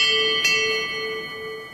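A morning bell rings with a single struck tone at the start, then hums and fades away over the next second.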